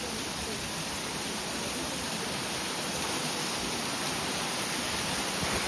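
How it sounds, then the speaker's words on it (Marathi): Water falls down a hillside near a hilltop temple, a steady, dense rushing hiss that stays constant and moderately loud without breaks. "तर डोंगरावरून बघू शकता पाणी कसं पडतंय."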